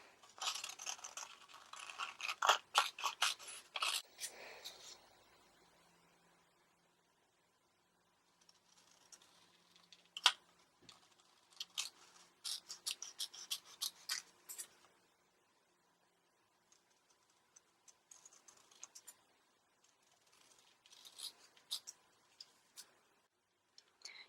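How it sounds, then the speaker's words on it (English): Scissors snip through a paper sewing pattern for a princess-seam bodice sloper, a few quick crisp bursts of cutting near the mic, then a pause and more scattered lighter snips and rustles, no voices. "Cut your pattern apart, eliminating both darts."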